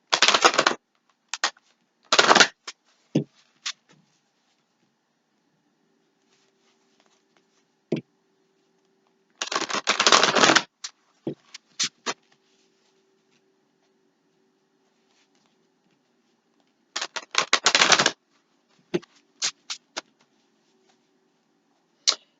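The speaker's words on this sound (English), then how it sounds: "Give it a couple shuffles because I want to do another row." Deck of tarot-style oracle cards shuffled by hand in a quiet room, three bursts of crisp riffling and slapping a few seconds apart, each followed by scattered soft taps as cards settle.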